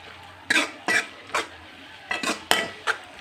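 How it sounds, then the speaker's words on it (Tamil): A spatula scrapes and clanks against a pan as beaten eggs are stirred into a beetroot stir-fry, making about seven distinct metallic knocks in an uneven rhythm over a low background, with no talking. "அதை எடுத்து அப்படியே அந்த பீட்ரூட்டோட ஒரு 2 கிளறி விடுங்க"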